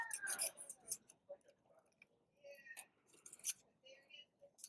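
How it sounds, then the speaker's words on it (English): Scissors trim a small section out of a paper die cut at close range, a series of soft snips and clicks with a quiet voice under them. "use my scissors to trim out this little section of the die."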